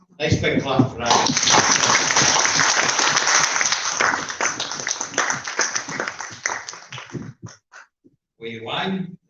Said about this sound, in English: big clap for that.